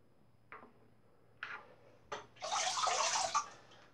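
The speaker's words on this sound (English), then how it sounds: "Just give that a rinse off" Running water rinses a metal RazoRock MJ90A safety razor plate, a few short splashes giving way to a steady close rush of flowing water near the end.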